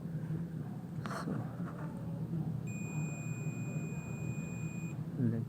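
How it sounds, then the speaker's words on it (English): A multimeter set to continuity emits a steady high electronic beep, a pure tone lasting about two seconds in a quiet room while testing a Nokia BL-5C phone battery, with faint handling noises around it. "See, beep sound is coming now."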